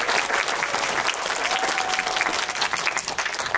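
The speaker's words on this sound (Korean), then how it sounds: "다시 한번 박수로 환영해 주시면 감사하겠습니다" An audience at a special film screening claps to welcome arriving guests, a loud, sustained burst of many hands clapping close by, continuous throughout with no talking.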